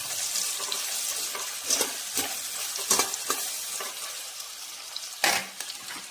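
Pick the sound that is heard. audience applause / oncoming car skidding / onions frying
onions frying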